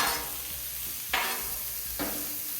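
Food sizzling on a CampChef flat top griddle with vegetable oil, a steady hiss broken by two sharp spatula scrapes as it gets mixed.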